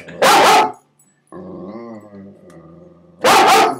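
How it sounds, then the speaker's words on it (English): A large dog gives two loud, close barks with a low rumbling growl between them. "He's a golden retriever. He's a dog. And he bites."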